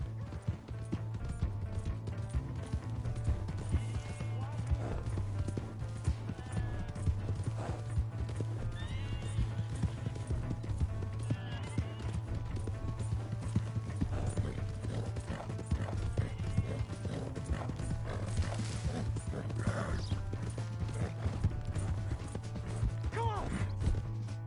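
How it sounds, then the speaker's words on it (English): A horse in Red Dead Redemption 2 gallops with a continuous rapid clip-clop of hooves, broken by loud whinnies and neighs over a low steady rumble, with no clear speech. "Hey, that's my horse!"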